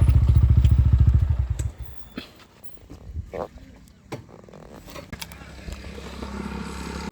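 A motorcycle idles loudly and steadily up close before cutting off, followed by clatter and thumps as it is parked outside a second-hand bike shop, with someone talking over it.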